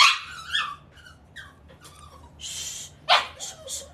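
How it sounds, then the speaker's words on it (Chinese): A small dog barks indoors in sharp, close yips and short bursts, with whimpering in the gaps between barks. "小狗，好美的狗狗。"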